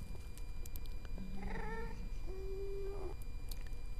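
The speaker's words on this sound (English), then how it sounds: "Come here, little kitty." A cat meowing in the video game Minecraft: two drawn-out, wavering meows in quick succession, close and clear over a steady background hiss.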